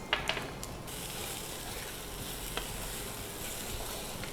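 Cauliflower and potato frying in masala for aloo gobhi, a steady broadband sizzle with faint scraping and stirring clicks, moderately quiet and continuous with no voices.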